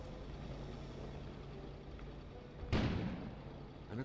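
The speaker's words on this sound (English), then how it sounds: "An explosion suddenly occurred outside." An explosion, thought to be a generator, booms outside during a storm in the video game Kona, a sudden deep blast over a steady rumble of wind, then fading away.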